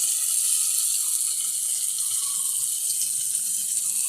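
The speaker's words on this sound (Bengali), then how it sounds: "একটু জল দিয়ে দেব।" Water pours into spices frying with turmeric in a pan for potol chingri, a steady hissing splash that stays even and fairly loud throughout with no voices.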